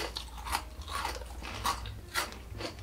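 Steak and caramelised onion flavoured potato crisps crunch between the teeth in repeated close, sharp bites, roughly every half second, with no talking over them.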